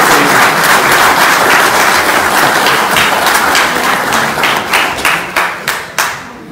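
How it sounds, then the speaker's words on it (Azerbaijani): Audience clapping at a Republic Day gathering of a political movement, steady dense applause that thins near the end into a few scattered, separate claps. "Onları gəlin alqışlayaq."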